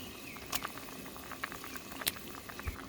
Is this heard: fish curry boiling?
yes